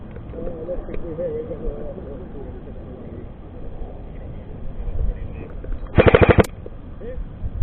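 Airsoft gun fires a short rapid burst in an outdoor airsoft game at a ridge site, a sharp cluster of snaps near the end, against steady outdoor ambience and birdsong.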